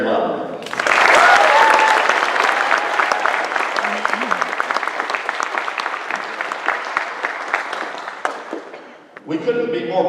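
An audience at a Kennesaw State University congressional debate for Georgia's 11th District breaks into loud, sustained applause welcoming Barry Loudermilk, the clapping filling the room for several seconds before fading as a voice resumes speaking.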